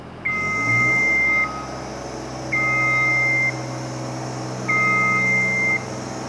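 Three evenly spaced electronic beeps from an aerial work platform's ultrasonic anti-collision sensor alarm, each lasting about a second with a clear steady tone, sounding over a low constant machine hum.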